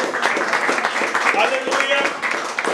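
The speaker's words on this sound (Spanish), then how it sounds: "a su nombre le regalo una ofrenda de aplauso a Dios" Dense, steady applause from a crowd at a village wake and burial in Guapinol, with a voice carrying over it, the clapping filling the whole stretch at an even level.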